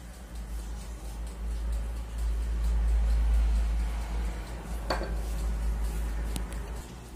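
Chocolate cake batter being scraped and smoothed in a baking dish with light, scattered utensil scrapes and clinks over a steady low hum, with one sharper tap partway through.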